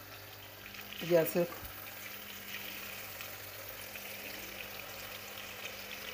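Chicken pieces fry in a karahi with a soft, steady sizzle throughout, and a short clatter and a few spoken words come near the start.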